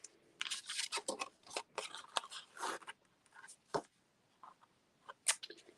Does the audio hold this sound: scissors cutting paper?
yes